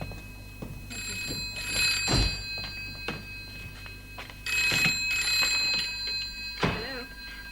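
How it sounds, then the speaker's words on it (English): A telephone rings indoors in two clear bursts of bright, bell-like trilling separated by a pause, moderately loud with light thumps and movement around it and no talk. "There's your phone."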